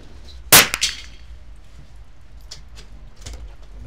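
A Browning BL 22 lever-action rifle in .22 Long Rifle fires a single sharp, loud crack at a shooting range, with a brief trailing echo, then quiet with a few faint distant ticks.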